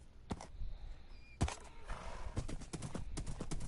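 A horse gallops in Minecraft Bedrock, a quick, uneven run of hoof clops with a sharp louder strike partway through, fairly quiet and mostly alone.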